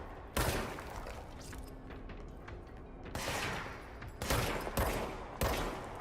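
Enemy gunfire in the video game Control: several sharp bursts of shots crack out at irregular intervals, with quieter rattling between them, and nobody speaks over it.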